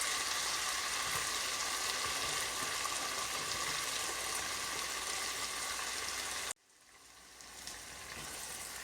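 Bottle gourd stir-frying with tomato, cumin and ginger-garlic paste in a pan, a loud continuous sizzle that cuts off abruptly near the end, then resumes faintly and builds again.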